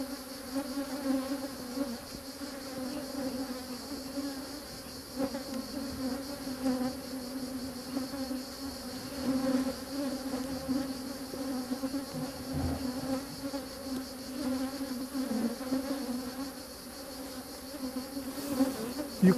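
Honeybees swarm around hive frames during a royal jelly beekeeping inspection, a constant dense buzzing drone filling the scene, close and steady with no talk.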